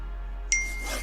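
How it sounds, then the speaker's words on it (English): A mobile phone notification goes off during an L.A. Noire session, a short bright electronic chime that rises suddenly partway through against a quiet hum, brief and alone with no talking. "That's my phone's just gone off and I didn't put it on silent."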